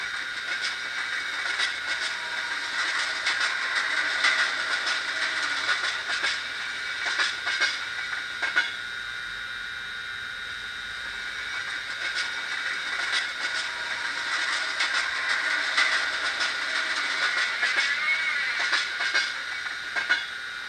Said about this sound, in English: So that depicts a goods wagon train going past